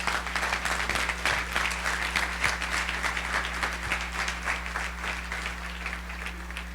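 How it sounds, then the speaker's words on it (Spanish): A church congregation claps loudly and steadily, the dense applause rolling on for several seconds over a constant low hum in the hall. "denle otro aplauso a nuestro Rey,"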